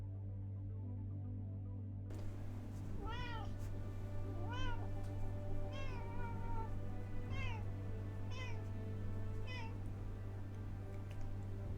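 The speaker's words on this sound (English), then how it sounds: "And we're back with the squeaky kitty." A squeaky-voiced kitty meows repeatedly, about seven short rising-and-falling high-pitched mews spaced a second or so apart, moderately close over a steady low hum.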